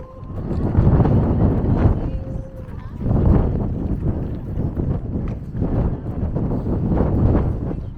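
Strong gusty wind buffeting the microphone in heavy rumbling waves at the Rock of Cashel in Ireland, loud and continuous with surges every couple of seconds.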